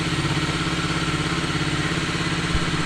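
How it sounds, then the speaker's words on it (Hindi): A Bajaj Dominar 250 motorcycle engine idles steadily after a cold start, a close, even mechanical rumble with light clatter and no revving, heard alone without talk. "अभी जैसे थोड़ा सा कोल्ड स्टार्ट होने देते हैं तो अभी का इंजन का साउंड तो यार नॉर्मल है"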